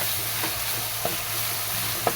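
Boiled potato and cauliflower sauté with chili powder in a hot pan, giving a continuous close sizzle with a couple of light spatula taps against the pan.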